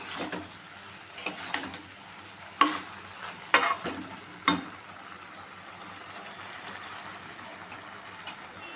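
Curry stirred in a pan, a few distinct scraping clacks of a spoon against the pan over a quiet low sizzle, then mostly just faint simmering.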